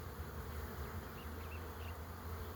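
Honey bees buzz steadily and loudly at close range around an opened hive frame, a dense continuous drone with no talking.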